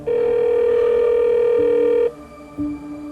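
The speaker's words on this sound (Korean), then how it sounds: "다시 피해자 집으로 전화를 걸었다고 했는데요" A telephone dial tone sounds loud and steady while a call is placed to a home, then cuts off and gives way to shorter tones.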